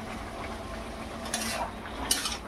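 Snake gourd pieces frying in a pan make a low, steady sizzle, with two brief scraping stirs of a utensil against the pan and no voices.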